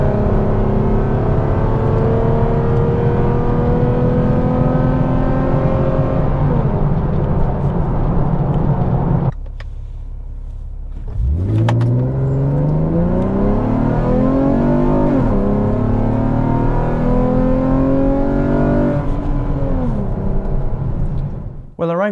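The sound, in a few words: 5th gen Camaro accelerating in sport mode after Trifecta tune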